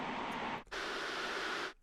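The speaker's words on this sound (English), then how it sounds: "it's just the fire kind of noise that I made earlier" Synthesized fire-like noise from the Phase Plant software synth: a steady, dense hiss that cuts out briefly, then resumes for over a second before stopping abruptly.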